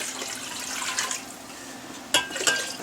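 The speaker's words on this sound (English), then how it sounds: "And now I need 7 1/3 cups of water." Water being poured and measured into a container for kosher dill pickle brine during home canning, a steady close trickle with a couple of sharper splashes near the end.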